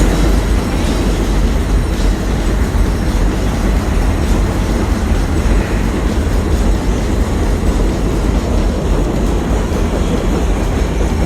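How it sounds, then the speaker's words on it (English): A train in New York rumbles past close by, a continuous loud roar with rhythmic clatter of wheels on the rails, no voices. "So here's a clip I took of the train."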